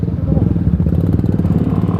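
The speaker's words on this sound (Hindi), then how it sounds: "बाइक का साउंड बहुत तगड़ा आ रहा है अंडरपास के अंदर।" Bajaj Avenger motorcycle engine rumbling inside a road underpass, a loud, steady low throb with fast regular pulses echoing off the walls, heard up close.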